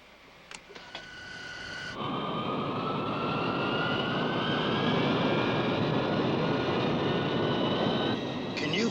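A fixed-wing aircraft's engine spools up for takeoff, a loud, steady jet roar with rising whine tones that swells after a few seconds and holds close and continuous, with faint clicks at the start.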